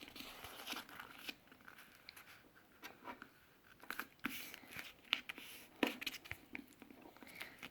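Paper being folded for a wall hanging craft decoration gives faint, close crinkles and sharp creasing snaps at an uneven rhythm, with no voice over them.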